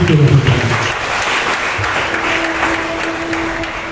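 A church congregation at a French Sunday worship service breaks into loud sustained applause that gradually fades to a steady, lighter clapping while voices call out over it.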